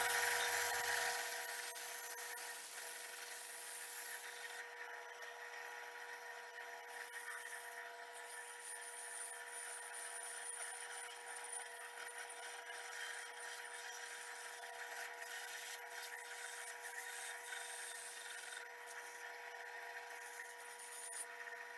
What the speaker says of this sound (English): So I'm going to run it in the bandsaw.